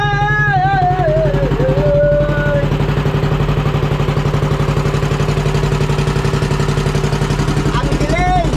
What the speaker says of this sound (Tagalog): Ikaw muna dito, papandarin na dito isang makina.